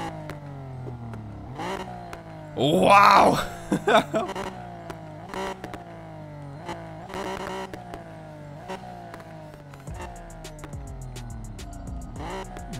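A Ferrari six-cylinder engine in the racing game NFS Payback revs repeatedly, each rev climbing and falling back in a steady rhythm, loud and close, with one sharp exclamation from a voice near the start.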